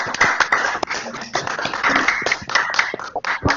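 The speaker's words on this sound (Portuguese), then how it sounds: "Abra os microfones para a gente poder aplaudir o Marcelo aí." Online participants clap over open microphones during a video call, uneven, overlapping bursts of hand claps and taps from several sources, close and irregular, with voices mixed in.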